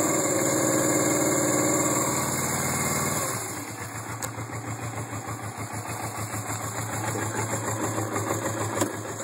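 A 1980 Suzuki GS450 S motorcycle engine settles into a steady, close, rumbling idle after a cold start, its pulsing note dropping lower partway through and staying even to the end.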